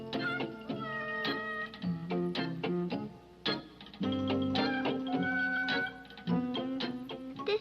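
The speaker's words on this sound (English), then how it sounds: "This is my kitten, Dusty." A kitten named Dusty meows repeatedly in short, close cries, some rising and stretched, in an irregular run with brief pauses between them.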